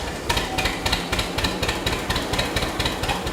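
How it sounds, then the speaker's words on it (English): John Deere 730 diesel tractor starting, its rumble running into a steady rhythmic popping beat of evenly spaced loud pulses, close by and with no talk. "There's a low rumble of the pony motor, then a quick transition into the big diesel's iconic popping rhythm."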